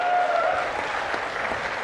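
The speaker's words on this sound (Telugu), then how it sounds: "గట్టిగా చప్పట్లు కొట్టి అభినందించాలి" Loud, dense applause from a gathered audience at a public political meeting, a steady burst of clapping filling the short moment without speech.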